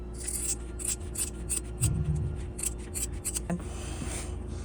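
Scissors snip through fabric for a sewing project making a card wallet, several quick, crisp cuts in a row close to the microphone over a steady low background hum.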